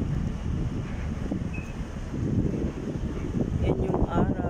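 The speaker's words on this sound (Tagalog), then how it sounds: "Sarap na ng hangin," Wind buffets an outdoor melon garden, a rough, gusty rumble that thumps the microphone, with a voice talking over it.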